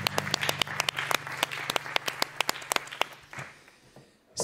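Studio audience at a French live TV show applauds a saxophonist with sharp individual claps over a steady low musical tone, fading out toward the end.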